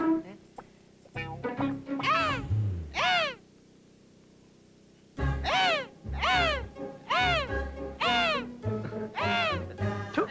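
A man in a night-time film scene imitates a crow with his voice: a burst of loud, arching caw-like calls, a pause of near silence, then a longer run of repeated cries in steady rhythm.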